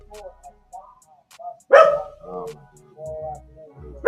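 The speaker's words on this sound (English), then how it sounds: "Somebody come get this dog." A dog barks once, loud and close, against a room where people talk over a live football game broadcast.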